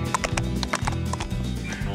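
A horse's hooves clip-clop in a quick, steady rhythm close by while it is ridden on a long cross-country trek, with the rider's movement and faint tack noise around the footfalls.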